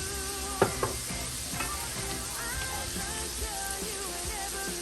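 Ground beef sizzles loudly in a hot pan with Worcestershire sauce, a steady hiss broken early by a couple of sharp clinks as a utensil stirs and scrapes through the mixture.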